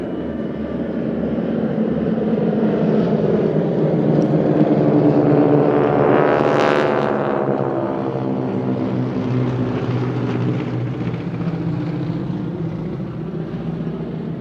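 Beechcraft propeller airplane passing overhead, a loud droning engine that swells and sweeps past around the middle, then fades slowly, with no talk.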